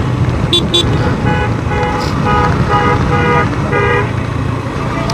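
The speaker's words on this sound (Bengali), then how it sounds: "একটা ওই পাশটা হর্ন দিতে দিতে আসতেছে" Several vehicle horn honks, some short and some held, ring out from a vehicle approaching on the other side of a busy road, over loud, constant traffic and engine rumble heard from a moving motorbike.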